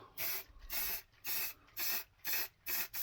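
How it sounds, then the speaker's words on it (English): Aerosol spray hissing onto pine wood in six short bursts, each about a third of a second, with brief pauses between, close and steady. "for now we'll spray this on, and hopefully that will darken that down"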